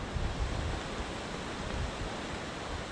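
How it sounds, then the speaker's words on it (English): Strong wind buffeting on a foggy Appalachian Trail approach, a dense, steady roaring rush with low gusty rumbles, close and loud with no voices. "hopefully when the sun burns off this fog, the wind will calm down a little bit"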